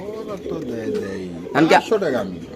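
Pigeons at a Dhaka market stall cooing nearby, soft throaty burbles mixed with a voice and background chatter.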